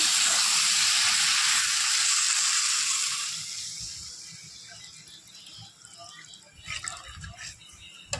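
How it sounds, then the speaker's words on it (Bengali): Water hits a hot pan of spiced ridge gourd and potato with a loud, bright sizzling hiss that lasts a few seconds, then dies down to soft bubbling and light clinks. "ঝিঙে আলুটা কষানো হয়ে গেছে, আমি এবার জল দেবো।"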